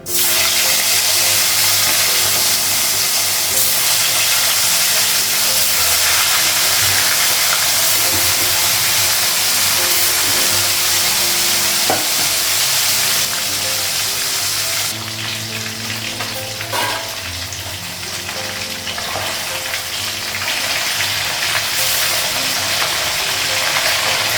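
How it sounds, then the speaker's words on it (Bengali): Fish fries in oil in a pan on a gas stove, giving a loud, steady, close hiss and crackle that fills the whole stretch, easing slightly partway through. "গ্যাসটা বাড়িয়ে দিই, মাছটা লাগালাম"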